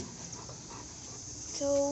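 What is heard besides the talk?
dog panting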